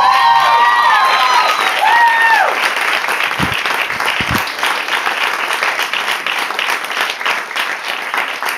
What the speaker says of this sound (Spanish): Fuerte el aplauso para Benny Rives.